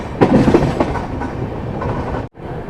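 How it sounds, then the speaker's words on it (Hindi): The 12203 Saharsa–Amritsar Garib Rath Express rolls along the rails near Siwan station, heard from inside as a loud, continuous rumble with rhythmic clickety-clack of wheels over joints, briefly cut off near the end. "अब हम लोग की ट्रेन पहुंच चुकी है सीवान रेलवे स्टेशन"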